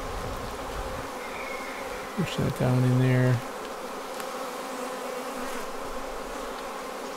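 Bees from a hived swarm buzz around an opened Apimaye nuc hive, a steady dense drone throughout, with a brief louder tonal buzz near the middle and a person speaking briefly over it.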